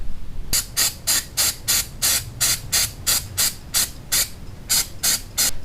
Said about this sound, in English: give it a spray with that CRC mass airflow cleaner